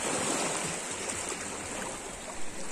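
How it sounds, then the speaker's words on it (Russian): Waves on Tudakul lake near Bukhara, a broad, steady wash of surf noise with wind, continuous and fairly loud, no voices over it. "Бескрайний горизонт и шумные волны, словно на море."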